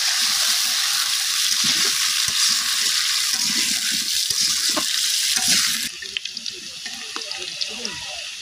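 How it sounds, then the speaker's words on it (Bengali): Salted potatoes fry in hot oil with a loud, continuous close sizzle and crackle, stirred now and then, before the hiss drops off sharply to quieter, scattered popping. "এবার আলুগুলো তেলের ভিতরে লাল লাল করে ভেজে নিবে।"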